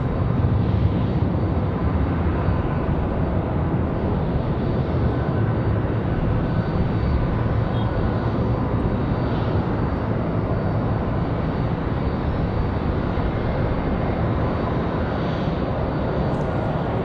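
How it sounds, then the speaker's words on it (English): An American Airlines Airbus A321 departing Raleigh-Durham for Charlotte on a windy day produces a loud, unbroken jet engine roar, dense and even throughout, with no voices. "Got an A321, that one back to Charlotte."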